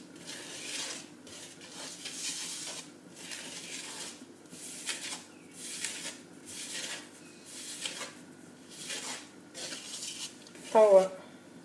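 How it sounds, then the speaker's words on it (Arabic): Flour and sugar being mixed by hand in a bowl for Tunisian ghraiba homs, steady rhythmic rubbing and scraping strokes repeating roughly every second, close and soft, ending with a brief clink. "لازم نخلطوا بالقدا بالقدا حتى لين يولي لون واحد، ما عادش نراو الفرينه ولا السكر"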